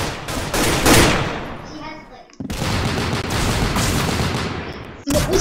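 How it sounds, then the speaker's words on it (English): Rocket launcher fire and blasts in the online shooter game Arsenal, with loud bursts of gunfire-like explosions, a brief drop to near silence, then another sustained roar and a sharp final boom. "Was that you firing a rocket launcher?"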